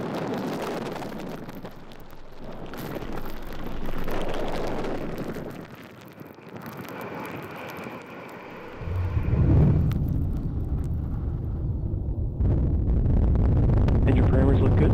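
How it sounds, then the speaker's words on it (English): A ULA Vulcan rocket lifts off on the USSF-87 Space Force launch, a deep, rumbling roar that swells partway through and builds into a heavy, sustained low-end thunder beneath a launch announcer's commentary. "And liftoff of United Launch Alliance SF-87 for the United States Space Force"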